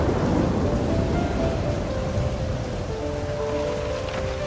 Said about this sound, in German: Draußen regnet es in Strömen.